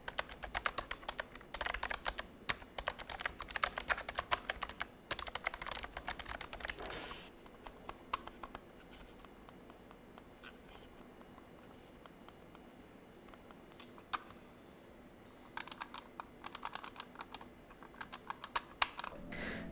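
Typing on a Rapoo K8000M quiet office keyboard, soft low clicks in two dense bursts at the start and end with a quieter lull between, close and alone with no talking.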